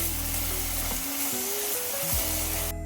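Coconut burfi mixture sizzles steadily while being stirred in a pan, with a soft scraping texture under a constant frying hiss. Sustained tonal hum runs beneath it, and no one speaks.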